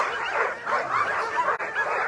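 Sled dogs bark and yip in a noisy, overlapping chorus at the start of the Knik 200 sled dog race, loud and continuous with excited whines mixed in.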